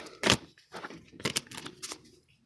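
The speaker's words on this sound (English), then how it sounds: "I'm being guided towards letting the cards fall out" Tarot cards riffle and slap down in a few quick papery bursts, close and soft, as the deck is shuffled and cards spill out onto a surface.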